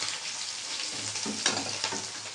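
Pointed gourd frying in oil with mustard seeds and dried chilies, a close, steady sizzle with soft stirring scrapes and a couple of small crackles.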